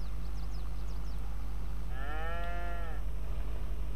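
A cow in the barn of a Farming Simulator 22 farm gives one drawn-out moo of about a second, fairly close, over a steady low hum of barn ambience with faint distant calls.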